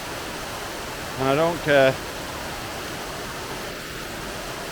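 Steady rushing water from the Arthog waterfalls fills the whole stretch as an even, close roar, while a voice briefly sings two short phrases over it.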